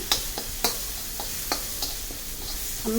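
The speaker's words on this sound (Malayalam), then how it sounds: "മസാല അതിൽ ഉള്ളിയിലും തക്കാളിയിലും ചേർന്ന് വരെ ഒന്ന് ഇളക്കിയിട്ട്" Maggi masala is stirred into onion and tomato in a pan for noodle upma, giving a steady faint sizzle broken by several sharp scraping strokes of the spoon.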